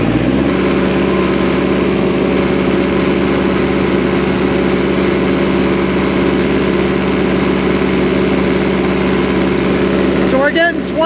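A 1958 Oliver 550 diesel tractor engine held at high RPM, a loud, steady, droning roar that stays even throughout, with a brief voice at the very end.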